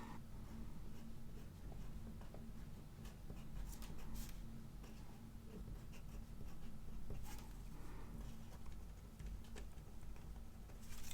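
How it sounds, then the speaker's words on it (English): A pen writes by hand in a paper planner, faint scratching strokes coming close up in a quiet room with soft intermittent ticks of the pen on paper. "So I'm going to write that here."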